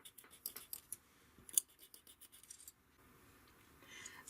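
Scissors snip through a paper panel for a North Pole model side in a run of quick, close crisp cuts with brief pauses and a rustle of paper near the end.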